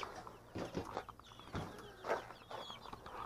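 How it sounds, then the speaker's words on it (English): Rhode Island Red chicks and bantam chickens clucking and chirping in short bursts, several birds close by, with soft peeps from chicks scattered between the louder calls. "now we've got our Rhode Island red chicks in here with the kids' 4-H Bantam chickens"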